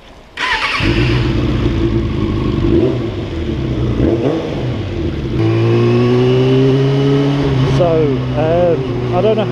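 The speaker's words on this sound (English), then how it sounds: "I don't know how well you can actually hear me over the sound of this ridiculous exhaust and the mixture of the wind noise." A Suzuki Bandit motorcycle with a loud aftermarket exhaust starts up and revs, a deep rumbling engine note rising and falling with throttle changes, heavy wind noise over it and a rider's voice talking through it.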